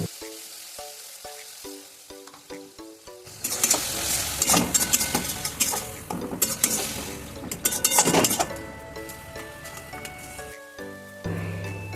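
Spice paste fries in a pan for a Kolkata pice-hotel-style vegetable dish, bursting into loud sizzling after a quieter start, with utensil clinks and stirring scrapes against the pan.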